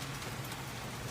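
Rain pours down during a windy storm, a dense, steady hiss of falling water with no talking.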